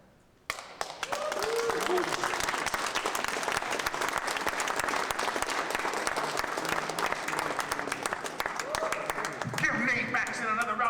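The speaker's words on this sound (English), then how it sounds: "Give Nate Maxon another round of applause." A crowd breaks into loud, sustained applause and cheering after a poetry reading, with dense clapping and a few voices calling out near the end.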